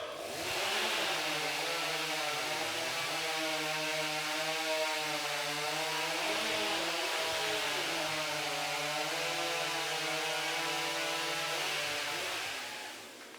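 Stock chainsaw cutting timber in a timbersports championship heat, a loud sustained engine whine with wavering pitch as the chain bites through the log, running continuously for over ten seconds before dropping off.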